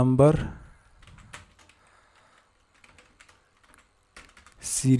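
Light, sparse keystrokes on a computer keyboard as data is entered into a spreadsheet, faint scattered clicks between a voice at the start and end.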